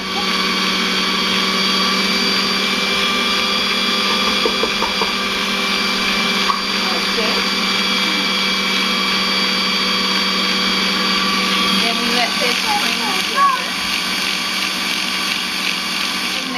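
An electric mixer with whisk beaters creams butter and sugar for a potica filling, a steady loud whirring hum running throughout with faint clinks against the bowl.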